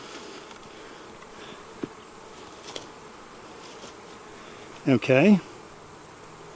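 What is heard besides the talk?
honeybees buzzing around a hive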